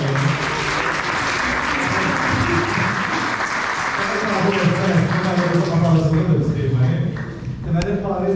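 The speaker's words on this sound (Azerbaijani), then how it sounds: "bir alqışlar Faris müəllimə." Audience applause at an interview event with a muğam tar player, a sustained, dense clapping from a room full of people, with a voice talking over it throughout.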